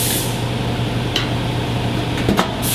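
Steady hiss of a spray gun running in an enclosed spray booth at a guitar factory, with a low ventilation hum underneath and a couple of brief clanks near the end.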